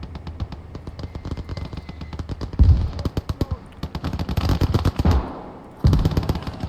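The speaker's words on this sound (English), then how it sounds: "Panzer III giving fire support with the MG34s." MG34 machine guns firing from a Panzer III in Gates of Hell, rapid sustained bursts of close automatic fire with heavy booming impacts and brief pauses between volleys.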